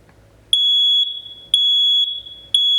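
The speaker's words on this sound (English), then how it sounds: "just to check them, you can just hold the button down here, and it will kick on, and it'll run through a couple cycles." A home smoke alarm being tested with its button held down sounds three loud, piercing high beeps about a second apart, each sharp tone ringing out alone over a quiet room.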